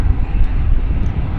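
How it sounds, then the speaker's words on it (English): Close, loud low engine roar from an airplane at Vancouver airport, a steady rumbling drone for a moment without voices. "Isn't that a neat looking airplane?"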